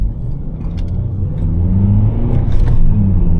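A Honda Civic 1.4 i-VTEC petrol engine hums steadily from inside the cabin, with road rumble and a gentle rise in revs as it drives along.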